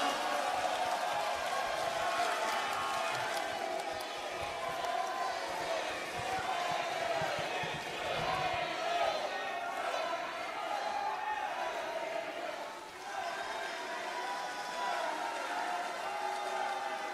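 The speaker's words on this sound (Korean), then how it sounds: "뜨거운 박수로 맞아주시기 바랍니다" At a party convention in a large hall, the audience welcomes a candidate with sustained, distant-sounding applause and crowd noise that continues steadily throughout.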